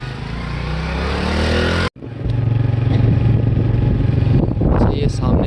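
A motorcycle rides through the streets of Lahore near Model Town's Link Road, with a steady engine drone and rushing wind, a brief cut, then the engine running on amid passing traffic and clatter, with voices faintly present.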